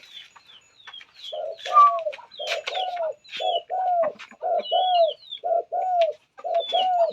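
A decoy dove gives repeated low, rolling coos in a steady rhythmic series, close and clear, with thinner higher chirps from other birds scattered between the calls.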